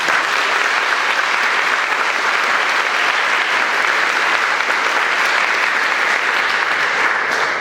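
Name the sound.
audience applause for the school custodians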